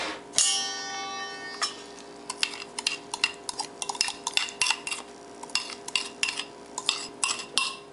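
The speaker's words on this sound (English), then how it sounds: "I'm going to transfer it to a larger bowl." Banana cake batter being scraped and moved into a larger bowl: a bright metallic ring at the start, then a run of irregular clinks and scrapes of a utensil against the bowl, close by with no voices.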